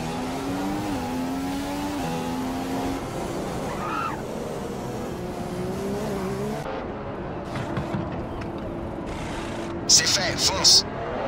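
A Formula 1 car in a racing simulator video game on the Monaco circuit, its engine note rising and shifting as it accelerates, with tyre squeal and quick bursts near the end, under steady voice commentary.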